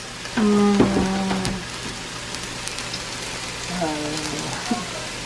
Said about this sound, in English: So how long are you going to saute this?